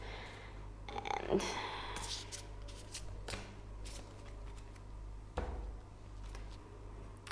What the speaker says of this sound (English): now from the Isis deck, I'm gonna pull 3 cards